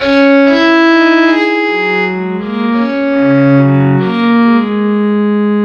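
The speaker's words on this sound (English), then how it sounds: "Kamancha is an Iranian bowed string instrument used in Persian," A sustained Kamancha (Iranian bowed string instrument) tone on a Casio CT-S1000V keyboard plays a slow, gliding melody, with notes sliding smoothly between pitches, loud and continuous without any talking.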